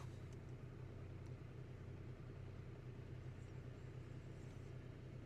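A Volkswagen Group car engine idles steadily, a low, even rumble heard close and faint with no talk over it.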